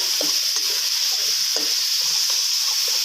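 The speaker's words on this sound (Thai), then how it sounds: "แล้วก็ตามด้วย พริกที่เราโขลกนะครับ ลงไปผัดให้หอมนะครับ" Pounded fresh chilies stir-fry in hot oil in a pan as a sauce for fried sea bass is made. A constant bright sizzle is heard up close, with intermittent spatula scrapes and taps and no talk.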